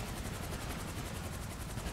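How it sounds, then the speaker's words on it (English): Helicopter in GTA 5: a loud, steady rotor thump with rapid rhythmic chopping pulses filling the whole clip, close and alone with no talking. "I'm gonna drop the whole helicopter in there too."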